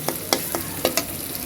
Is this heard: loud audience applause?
no